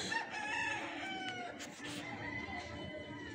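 Chickens and a rooster in a small backyard aviary cluck and crow together, a steady busy fowl chorus heard fairly close with overlapping calls throughout.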